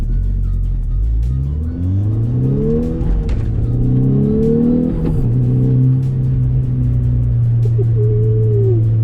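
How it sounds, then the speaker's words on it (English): A tuned Volkswagen Golf R Mk6 turbo engine revs up and climbs through the gears, with crackling exhaust burbles as the throttle lifts, loud and close. "you can hear those burbles when you let off the throttle"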